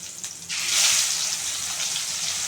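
Stuffed bitter gourds drop into hot oil in a pan and set off a loud, sudden hiss that swells and then holds as a steady, close sizzle.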